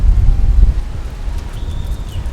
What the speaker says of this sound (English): it's getting a little too windy